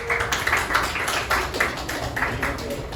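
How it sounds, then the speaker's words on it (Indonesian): Scattered clapping from a small classroom group, uneven bursts of hand claps over about three seconds with some voices mixed in. "tepuk tangan untuk Reno"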